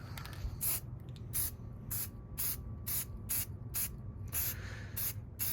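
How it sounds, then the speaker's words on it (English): Spray paint hisses out of a can indoors in a series of short, regular bursts, close by, with a steady low hum beneath. "I like to spray paint inside my house"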